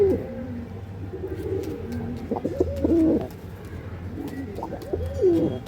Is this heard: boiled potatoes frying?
no